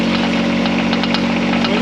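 The Kubota diesel engine of a HUAYEE SHY12 runs at steady high revs in low speed, a loud, close, constant drone with a strong hum and mechanical rattle.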